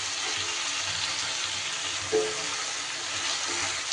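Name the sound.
ginger and garlic frying in oil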